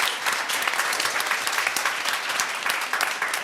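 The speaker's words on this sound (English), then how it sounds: "give another round of applause to Dr." A seated audience at a graduate alumni and student brunch applauds its panelists, with a dense, even wash of clapping that holds at full strength from start to finish.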